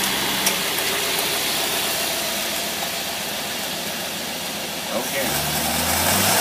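A car engine fitted with a tri-power carburetor runs with a loud, close, sustained roar that holds steady as if at the rev limiter, then drops near the end; a voice speaks briefly.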